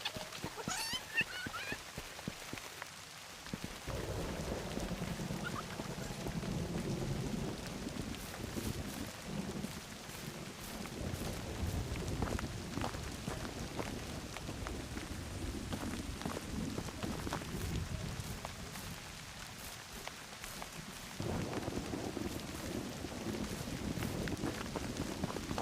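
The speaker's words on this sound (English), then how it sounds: "And now it's raining" Steady rain falls across an open medieval landscape in the video game Medieval Dynasty, a continuous hiss with low rumbling wind and faint footstep-like thuds underneath, no speech.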